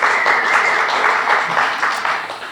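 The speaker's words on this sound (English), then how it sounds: "can we please give a round of applause as well to our great library workers" An audience at a public event claps for library workers: a dense, continuous burst of applause from a crowd, sustained evenly for a couple of seconds.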